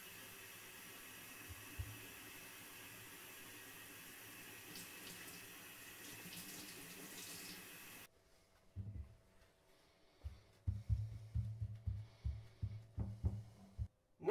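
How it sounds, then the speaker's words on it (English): Tap water runs steadily into a kitchen sink while razor clams are rinsed, a constant hiss for several seconds, then quieter with intermittent splashes and clatter as the flow is handled. "give these a wash, a rinse under the tap, and then a dry with the kitchen towel"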